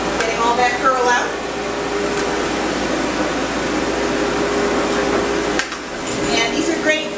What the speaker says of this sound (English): I want to go all over my dog with my stand dryer, getting all that curl out.